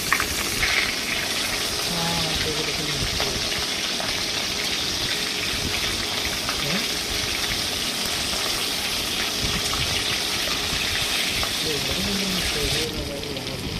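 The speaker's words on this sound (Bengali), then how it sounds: "তারা হয়ে গেলে মাছের মাথাটা আমি তেলের মধ্যে একটু ভেজে নিলাম।" A fish head frying in hot oil gives a steady, close hiss and crackle that runs continuously with little change, and a voice speaks faintly under it now and then.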